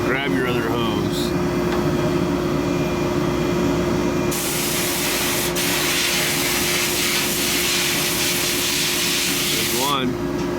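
An air hose blasts a loud, steady hiss over a rebuilt Harley twin cam 110ci cylinder head, starting midway and cutting off near the end, with a continuous hum and people talking in the background.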